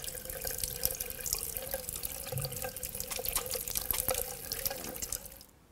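Water runs steadily from a tap during hand washing in a clinical setting, a continuous hissing splash with small drips and clatters, moderately close and without speech.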